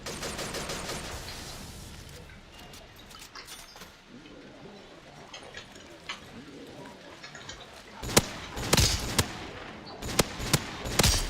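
Gunfire in Black Ops 3 custom zombies: rapid, dense bursts of shots at the start give way to quieter clatter, then several loud, sharp blasts cracking out one after another near the end.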